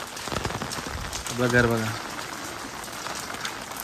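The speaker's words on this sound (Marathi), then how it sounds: "इकडे लय पाऊस आहे." Heavy rain pours steadily in Alibag, a constant close hiss of drops on surfaces with a brief tonal hum rising mid-way, while a person speaks over it.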